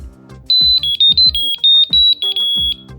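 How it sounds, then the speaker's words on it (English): A loud, piercing electronic alarm from an item tracker, up to 110 dB, beeps in a rapid irregular pattern of high-pitched tones, with a voice speaking faintly underneath. "It has a super loud alarm, up to 110 dB"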